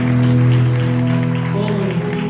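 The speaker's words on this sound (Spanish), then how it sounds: "Dale un aplauso al Señor" Churchgoers clap during a worship service in Rancho Arriba, a steady round of applause mixed with sustained musical tones and voices throughout.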